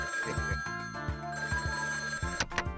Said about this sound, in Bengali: তোমার মাঝি আবার ফোন করছে।